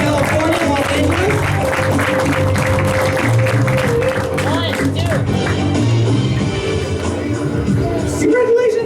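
An audience at a Southern California training event applauds, with steady clapping running beneath a loud amplified voice for the whole stretch.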